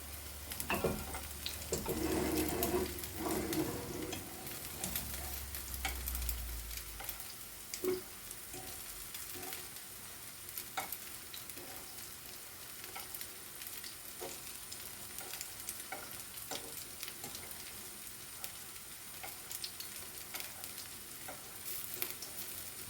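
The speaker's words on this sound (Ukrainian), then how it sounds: "Все, хай смажиться" Steady frying sizzle of zucchini in a pan, a constant crackling hiss with occasional light pops and a brief low rumble early on; no voices.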